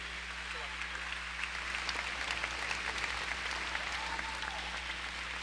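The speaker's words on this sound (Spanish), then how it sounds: "Lo recibimos con un fuerte aplauso en el Señor." A church congregation applauds, the clapping spread evenly across the room over a low, steady electrical hum. Faint voices come through underneath.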